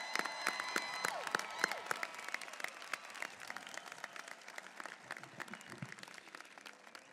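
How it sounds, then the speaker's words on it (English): Audience at a Mt. San Jacinto College graduation ceremony applauds the class of 2015, with dense, steady clapping from a large crowd and scattered louder claps and faint cheers throughout. "I invite you all to join me in applauding the students who make up the class of"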